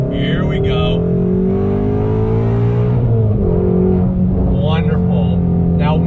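A 2020 Ford Shelby GT350R Mustang with a resonator delete pulls away from inside the cabin, its engine loud and droning as it climbs smoothly through the revs, dips on a shift and rises again, with someone speaking over it.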